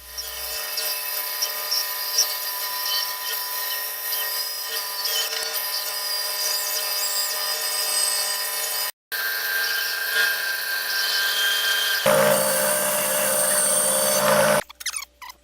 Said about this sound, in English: it's back over to the bandsaw. Here I'll cut away as close to the line as possible